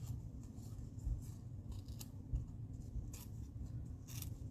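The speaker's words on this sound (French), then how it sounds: "Fait que je vais le couper à 1 et 1/4." Paper being cut for a handmade Stampin' Up ocean-wave card, a close, faint and steady snipping or slicing rasp with a few sharper strokes.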